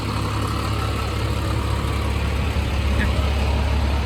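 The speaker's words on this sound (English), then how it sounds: "I don't see any smoke, but I sure see a lot of fire engines." Fire engines idling on a Philadelphia street, a steady loud low diesel rumble throughout with no breaks.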